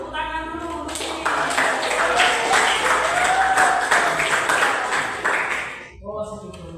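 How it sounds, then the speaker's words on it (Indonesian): Classroom applause during a fiqh lesson, a burst of many hands clapping rising quickly, holding for several seconds and then fading, with people speaking briefly before and after. "Tepuk tangan dulu untuk ini."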